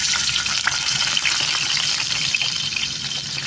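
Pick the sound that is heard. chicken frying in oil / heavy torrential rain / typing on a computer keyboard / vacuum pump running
chicken frying in oil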